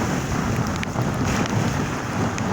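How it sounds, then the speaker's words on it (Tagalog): Strong typhoon wind roars steadily over big crashing waves on a coast where a shallow fishing boat rides the swell, a continuous loud, gusty wash of noise with no voices. "Ayan, laki ng alon."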